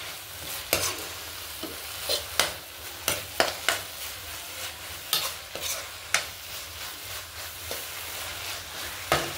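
Carrot halwa with sugar and cardamom powder stirred in a pan: a soft sizzle runs underneath while a spoon scrapes the pan in irregular close strokes, some sharp and some softer.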